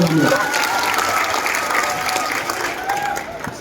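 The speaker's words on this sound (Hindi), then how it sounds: "तो फिर एक बार जोरदार ताली बजा दो" A crowd at the Shravasti Mahotsav poetry gathering applauds loudly and steadily, a dense wash of clapping with a few cheers running throughout.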